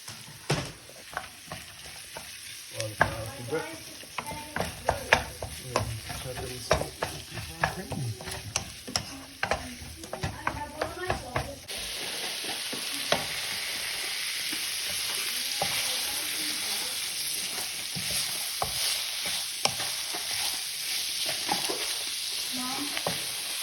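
Onions softening and browning in a pan, frying with a steady sizzle while a utensil stirs and scrapes in irregular clatters; the sizzle grows louder and more continuous partway through, with faint voices talking nearby.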